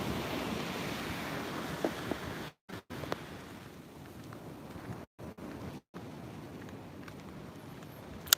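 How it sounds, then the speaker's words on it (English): Ocean waves on a Bali beach, a soft, constant rushing wash mixed with wind buffeting the microphone, with a few abrupt dropouts to silence and no voices. "I always find the sound of the waves soothing."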